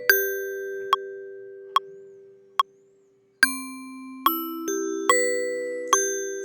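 A solo bell track in Ableton Live rings out in clear, struck bell tones, single notes at an even pace at first and then quicker stepped pitches, each strike decaying smoothly into the next.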